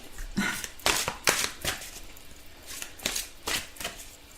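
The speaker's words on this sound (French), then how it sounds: "toutes les cartes tombent." Oracle cards being shuffled and tumbling onto a surface, a series of quick papery riffles and soft slaps in irregular bursts, close and fairly quiet with no talking.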